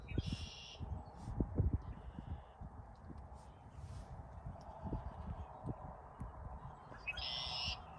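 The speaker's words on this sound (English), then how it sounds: "There's that noisy bird" A harsh bird squawks outdoors near the start and again near the end, with wind and soft thumps in between.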